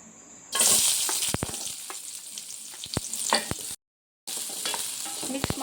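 Onions hit hot oil in a pan with a sudden sizzle that settles into a steady close frying crackle, punctuated by sharp spoon knocks against the pan and a brief silent gap.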